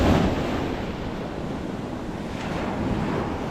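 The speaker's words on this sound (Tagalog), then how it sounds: "Ito yung dagat dito." Sea waves washing onto a beach in Cabangan, Zambales, a steady broadband surf roar lasting throughout, with heavy wind buffeting the microphone and no talking.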